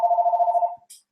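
A landline telephone rings in a home, one short warbling electronic ring burst that cuts off quickly, loud and close, followed by a brief hiss and the start of a voice.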